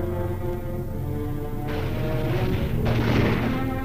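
Atomic explosion blast in an old civil defense film, a sustained deep roaring rumble with two surges of broadband blast noise layered over a low drone, no talking.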